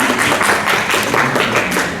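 An audience applauds at a book presentation during a book fair in Toluca, a dense patter of many hands clapping steadily and fairly close for the whole stretch.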